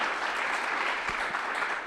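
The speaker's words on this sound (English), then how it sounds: "Applause, applause." Steady applause from an audience at a team challenge event, a dense, even patter of clapping that holds at one level for two seconds with no voices over it.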